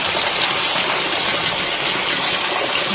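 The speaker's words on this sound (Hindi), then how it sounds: "भाई देखो इतनी तेज बारिश आ रही है," Heavy rain pouring down in a steady, loud roar of rushing water, close and unbroken, with no voices over it.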